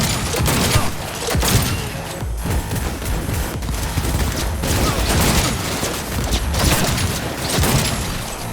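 Dense, continuous gunfire in the video game Cyberpunk 2077, heavy overlapping shots and booms forming a loud, unbroken barrage throughout.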